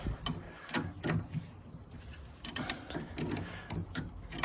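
A wrench works on a hydraulic steering fitting of a Yamaha outboard with a SeaStar system, giving soft metallic clicks and scraping ratchet-like taps, irregular and close, with no talk.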